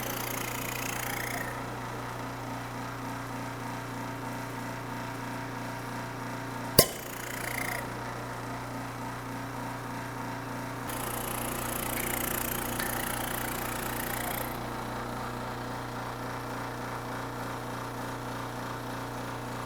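A small vacuum pump runs through a little hose while testing the valve seal on a 2005 Subaru Forester cylinder head at a machine shop, giving a steady droning hum with one sharp click partway through and no talk.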